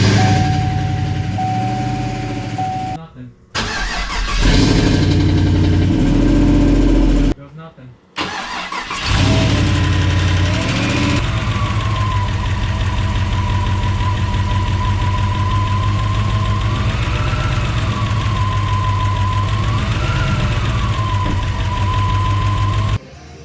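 A truck engine cranks with a couple of short starter bursts, then catches and settles into a steady, loud idle that runs on with a slight wavering tone, indoors in a garage.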